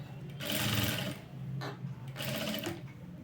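A sewing machine whirs in close, loud bursts while stitching around a leaf-shaped piping curve, its motor stopping briefly between runs as the fabric is turned.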